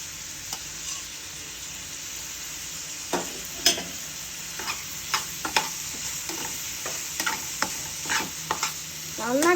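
Ginger paste masala stirred in a pan for a fish dish, a steady sizzle with repeated spatula scrapes and knocks that grow busier toward the end, no speech.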